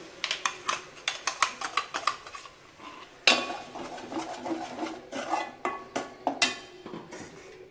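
Ground tomato poured into a pan of fried ginger, garlic and onion for a mango fish curry, followed by a run of quick metallic scrapes and taps of a spoon stirring, close and steady.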